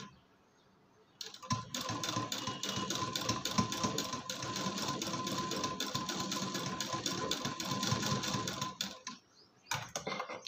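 A sewing machine runs steadily for about eight seconds, stitching piping onto a blouse neckline, with a dense, fast mechanical whir that stops abruptly before a brief restart near the end. Close and loud, with no talk.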